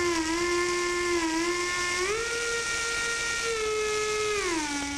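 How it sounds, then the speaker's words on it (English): Old factory steam whistle atop the New York Wire Company screen works in York, Pennsylvania, sounding one loud, sustained, steady tone whose pitch rises midway, holds, then drops near the end, heard alone. "his son Don Ryan, and his son Mark playing the old factory whistle atop the New York Wire Company in York, Pennsylvania."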